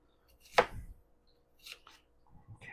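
A knife cuts through stacked pepperoni slices on a board, one sharp chop followed by a few softer, quieter cuts with brief pauses between.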